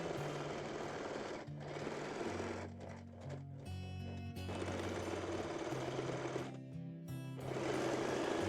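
Sewing machine stitching elastic lace fabric without a serger, a steady close mechanical whir in several bursts, starting and stopping with short pauses between runs.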